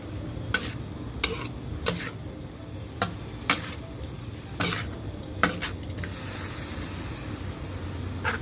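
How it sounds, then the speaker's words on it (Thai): Glass noodles being stir-fried in a pan for a Thai dish, with a constant close sizzle and sharp spatula scrapes and clinks against the pan at irregular intervals, no talk. "ก็ผัดให้วุ้นเส้นสุกดีเลยค่ะ"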